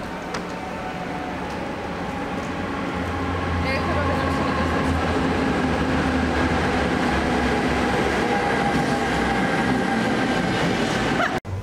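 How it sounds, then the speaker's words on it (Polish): Interior of a moving PKP Intercity passenger train in Poland, a steady loud rumble of wheels and carriage noise with faint tonal whines, continuous throughout and ending abruptly. "my jesteśmy już w pociągu polskich, chciałem powiedzieć, linii lotniczych Intercity"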